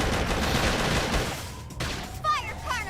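Video-game gunfire rattles in a dense, fast volley for the first second and a half, then thins out under chattering game voices and sound effects.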